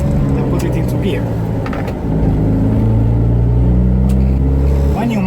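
A Fiat 500 with a constant-mesh gearbox rumbles loudly close by as its engine revs and accelerates through gear changes, with a brief dip in the drone around the shift.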